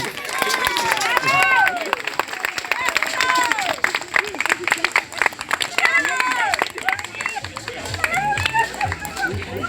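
Applause and clapping from a crowd at a preschool Ngäbe-Buglé dance performance at the Cerro Tula school, steady and dense throughout, mixed with cheering voices and lively background chatter.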